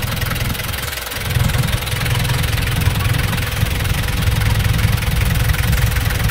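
A recon Japanese surplus engine idling steadily up close, with a low, even rumble and light mechanical knocking throughout.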